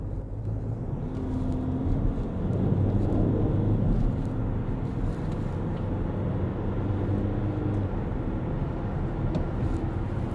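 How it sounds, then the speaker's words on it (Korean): A Kia Sorento accelerates hard, heard from inside as a steady low engine and road rumble that swells slightly and holds through the run, with no voices. "저희가 급가속을 한번 해봤는데요."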